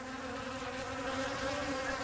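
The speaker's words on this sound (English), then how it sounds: "This food station, set up by biosecurity officers in Cairns, shows the European and smaller Asian bees in direct competition" European and smaller Asian honey bees buzzing together at a food station in Cairns, a steady, close, even drone of many wings with no talk.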